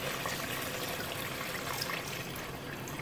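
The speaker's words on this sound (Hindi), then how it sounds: "अब मैं इसमें डालने लगी हूँ एक जग पानी का" Water from a jug pours steadily into a pot of chicken qorma, a continuous soft splashing stream that lasts the whole time without a break.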